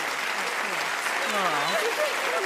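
An audience at the Diabetesgalan 2017 award show in Sweden rises to its feet and applauds the winners, a steady wash of clapping that runs under a presenter's amplified voice.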